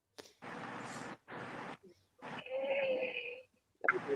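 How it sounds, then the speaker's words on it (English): A woman snoring in broad, noisy bursts, several rough breaths in a row with short gaps, then a longer wheezing, whistling stretch near the end. "You guys hear her snoring?"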